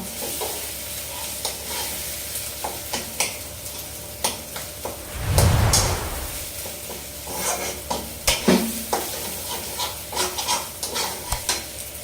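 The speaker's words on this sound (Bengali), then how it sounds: "আলুটা আগে ভালো করে কষিয়ে নিই আমি" Potatoes are sautéed in a pan for a Bengali kabuli chana curry, giving a dry sizzle under repeated scraping and clinking of a spatula against the pan, with one louder stirring burst midway.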